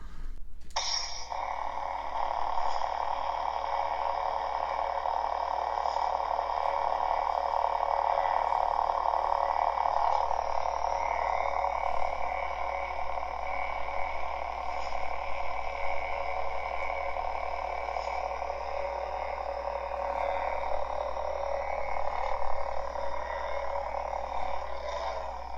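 A Cal Kestis Legacy lightsaber from Galaxy's Edge powers on and holds a steady, buzzing electronic hum with a low drone beneath, sustained and fairly close throughout.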